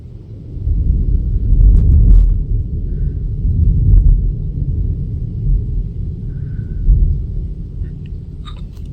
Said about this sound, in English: I think we're gonna have thunder.